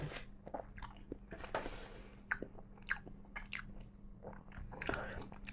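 Close chewing of soto food: soft, wet squishy bites mixed with crisp crunches in an irregular rhythm, heard up close against a faint steady hum.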